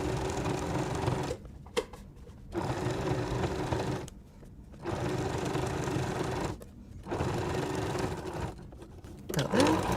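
A sewing machine stitches binding around a quilt in close, steady whirring runs of about two seconds each, separated by short pauses as the fabric is repositioned, with no talk over it.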